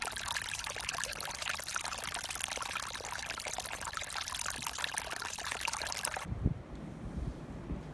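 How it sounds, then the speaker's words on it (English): Small creek waterfall fed by melted snow, a steady close rush of pouring, splashing water that cuts off abruptly near the end, leaving quieter ambience. "It was draining over there through a little waterfall, which I can insert a clip of right now"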